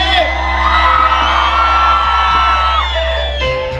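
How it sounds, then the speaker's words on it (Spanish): A concert crowd at a rancho in Tepexi de Rodríguez, Puebla, lets out a loud, sustained whooping yell, the cry of Puebla, with voices blending into one long shout that fades near the end. "a ver de nuevo ese grito de Puebla, mi gente, esta noche"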